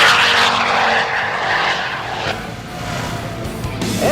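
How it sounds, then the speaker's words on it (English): A Dodge Viper street car roars past at speed, a loud, close, rushing engine blast that fades over a few seconds, with a brief whine at the end. "A Dodge Viper."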